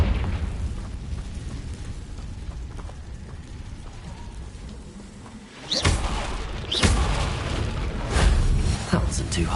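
Confringo blasting spells from the Hogwarts Legacy video game burst in a few sharp explosions over rumbling background ambience, with a voice calling out in the scene.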